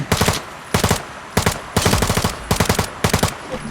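Automatic gunfire in the shooter game Lost Light: loud, close bursts of rapid shots, about six separate volleys of varying length with brief pauses between them, and no talking.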